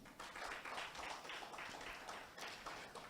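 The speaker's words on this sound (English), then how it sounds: "That is Lagos State applause." An audience at the opening of a corporate governance and enterprise development conference gives a soft, distant round of applause, a continuous patter of many hands that holds steady throughout and stays faint.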